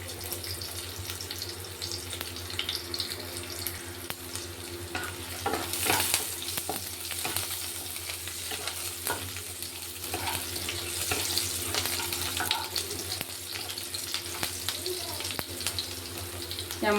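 Cumin seeds crackle and sizzle in hot mustard oil, a steady bright frying hiss running throughout with small pops and occasional stirring scrapes, fairly close and continuous, with no talk over it.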